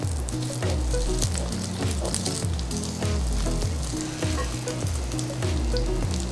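Zucchini pancakes (Korean jeon) pan-frying in oil give a loud, steady sizzle and crackle, continuous and close, with a faint rhythmic stirring or tapping underneath and no talking.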